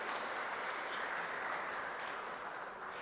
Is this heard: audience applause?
yes